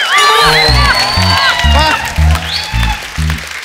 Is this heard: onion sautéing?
no